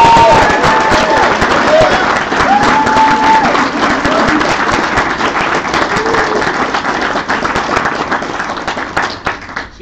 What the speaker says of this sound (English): who needs to have your thanks and your applause